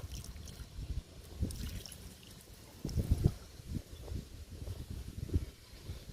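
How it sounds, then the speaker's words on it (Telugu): Water poured from a can onto a potted caladium plant, soft trickling and splashing in short bursts, fairly faint and close, with no talk. "కెలాడియంకి వాటర్ ఇస్తున్నా."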